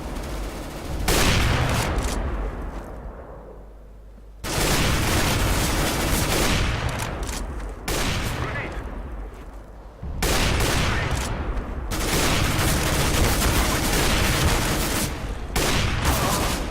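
Loud, close automatic gunfire from CS:GO rattles in long sustained bursts, broken by short gaps near four, eight and twelve seconds.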